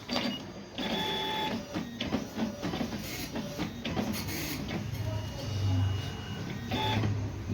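An Epson PLQ-22CS passbook printer whirs and clatters mechanically after power-on, with repeated motor runs, short clicks and a high whine, close and steady with no talk.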